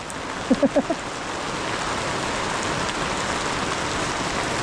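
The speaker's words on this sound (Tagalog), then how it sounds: "ayaw nang huminto ng ulan" Dense, steady rain hissing down on surfaces, with a brief few faint vocal sounds near the start.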